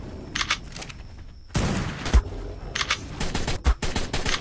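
Rapid bursts of AK rifle gunfire in the survival game ARK: Survival Evolved, several loud close volleys of automatic shots with short gaps between them and sharp single cracks mixed in.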